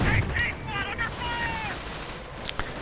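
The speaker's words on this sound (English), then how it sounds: "The Grenadiers that continue to fire away with their MG." Grenadiers fire an MG in a World War II real-time strategy game, with loud bursts of rapid gunfire and explosions densely layered as a commentator talks over the battle.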